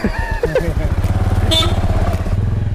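A motorcycle engine idles and revs with a steady low throb close by, starting up after a brief voice and running continuously to the end.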